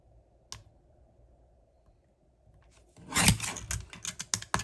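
Cardstock pieces are cut for a Stampin' Up! card layout: an isolated click, a quiet pause, then a burst of close, crisp slicing and snapping, with a few sharp clicks.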